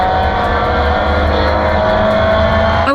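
Race cars at Willow Springs pull away at the start of the race, a loud, close engine drone with layered revving notes that hold steady and then climb sharply at the end.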